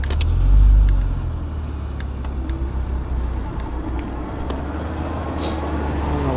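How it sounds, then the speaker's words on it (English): A car passes on the road near a rider on a Windhorse eBike, a low engine and tire swell rising close by early then fading into steady road and wind noise. "I don't know what that car is doing there."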